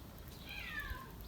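A cat meows in a short, clear drawn-out call over a soft background hum, among a group of many cats being fed wet food.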